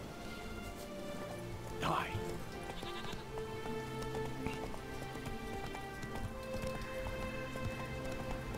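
A horse's hooves clip-clop at a steady gait while riding in The Witcher 3: Wild Hunt, with a whinny or snort near the start, all under game music and someone talking.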